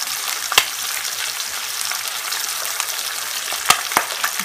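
An egg fries on top of ham in a pan with a steady, close sizzle and crackle, punctuated by a few sharp pops and clicks and no talking.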